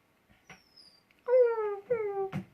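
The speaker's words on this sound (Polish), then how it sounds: "Pies wyje." A young dog gives two short, mournful howls, each a drawn-out falling whine, amid faint clicks and rustles in a quiet room.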